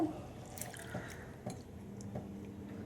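Water being poured off soaked mung dal in a kitchen, a close trickle with scattered drips and small splashes, steady and fairly quiet.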